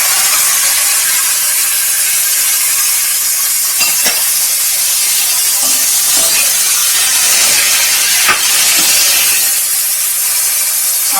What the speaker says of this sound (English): I'm going to add the tomato.